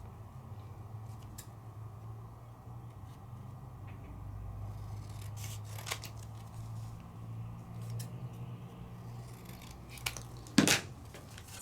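Scissors trimming a month out of a paper calendar, quiet snipping and rustling paper over a soft room hum, with one sharper, louder cut near the end.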